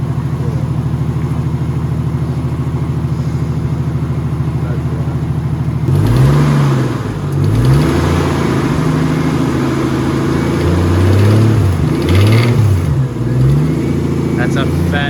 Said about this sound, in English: That's a fat exhaust leak.